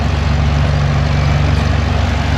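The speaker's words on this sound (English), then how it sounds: "Tractor with a big belt running it." At a harvest festival, a tractor runs a threshing machine through a big belt, close by: a steady, heavy low engine rumble with even mechanical churning, loud and constant for the whole moment.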